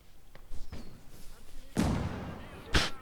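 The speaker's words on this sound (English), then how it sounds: "we're gonna throw a grenade at him" A grenade goes off in the video game Surviving Conquest Enhanced. A few soft thuds come first, then two sharp close blasts with short noisy decays, separated by a brief gap.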